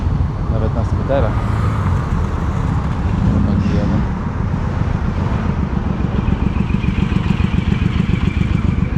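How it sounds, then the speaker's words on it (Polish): Scooters ride past on a dry, hot rural road in Ukraine, their small engines buzzing under wind noise across the whole stretch, with an engine note swelling near the middle; someone talks in Polish over parts of it. "Nawet na skuterach."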